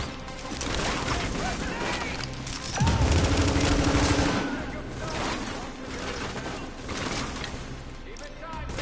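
Sustained automatic gunfire from a squad firing together in The Division, dense and loud throughout with a heavier burst in the middle, under radio-style voice callouts.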